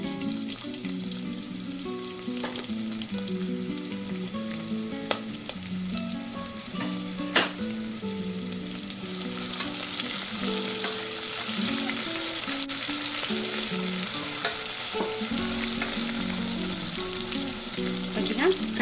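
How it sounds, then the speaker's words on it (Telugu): Cashews and onion pieces fry in hot fat in a pan with cloves and cardamom, a steady close sizzle and crackle running throughout with occasional faint stirring clicks. "అదేవిధంగా క్యాష్యూస్ కొన్ని యాడ్ చేస్తున్నాను. అదేవిధంగా ఉల్లిపాయ ముక్కలు"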